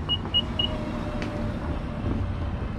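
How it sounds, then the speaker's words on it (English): The power liftgate of a 2018 Nissan Murano Platinum AWD gives three quick electronic beeps, then a low, steady motor hum as it moves, close by and fairly quiet. "Power liftgate"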